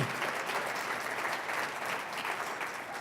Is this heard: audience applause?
yes